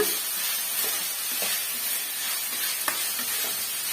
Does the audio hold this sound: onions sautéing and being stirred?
yes